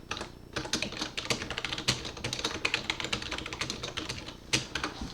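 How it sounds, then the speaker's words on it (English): Rapid, continuous typing on a computer keyboard, with crisp close key clicks in an uneven rhythm and a few louder strokes such as the space bar, and no voices. "Then this is how I type."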